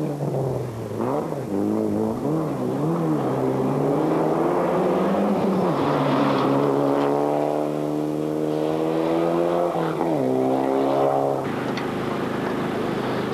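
A Mitsubishi Lancer Group N rally car is driven hard along a stage of the 1995 Boucles de Spa rally, its engine loud and close, rising and falling in pitch through gear changes, with no talk over it.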